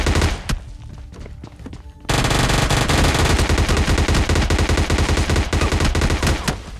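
Gunfire in the battle royale game PUBG Mobile Lite: scattered close shots at first, then sustained loud rapid automatic fire in a dense, steady stream of cracks.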